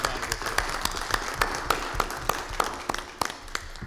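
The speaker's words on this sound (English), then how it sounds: "I think we owe her a big round of applause." Board of Education meeting attendees applaud in a modest, sparse round, distinct individual claps standing out clearly over a low room background.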